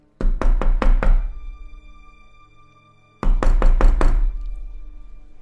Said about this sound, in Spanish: escuché que tocaban a la puerta, de una manera insistente.